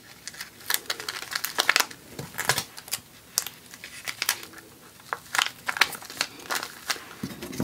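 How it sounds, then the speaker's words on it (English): Tape being pulled and pressed onto a sublimation air freshener print, close crinkling, tearing and crackling bursts in quick irregular succession. "tape that side"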